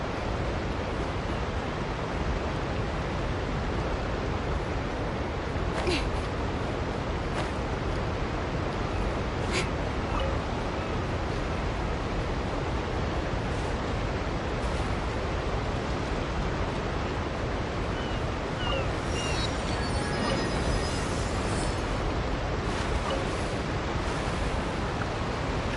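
Loud, continuous broadband roar of a waterfall in Fontaine in the video game Genshin Impact, close and unbroken throughout with no voices.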